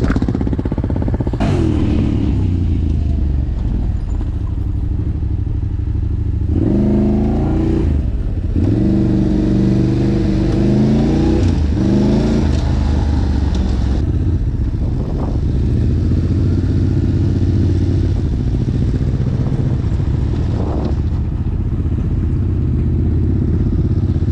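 Quad bike engine running steadily while riding through town, a continuous close motor drone with several sharp throttle blips and revving surges; no talk.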